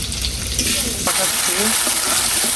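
Spice paste with fish and potatoes frying in a pan gives a loud, steady close sizzle that swells into a brighter, more intense hiss after a sudden addition midway, with a voice talking faintly under the frying.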